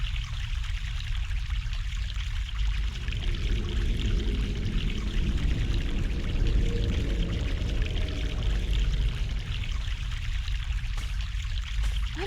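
Fresh mountain stream water flows in the game The Longest Journey with a steady, full rushing pour that stays loud and continuous throughout, alone with no voices.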